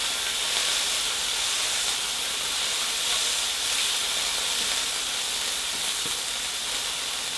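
Smash burger sizzling on a hot griddle after a flip, a loud, steady broadband hiss that stays even and close from start to finish, with no talk.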